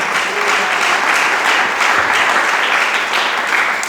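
Congregation applauding in a church service, a dense, steady wash of many hands clapping that holds loud and continuous throughout without pause.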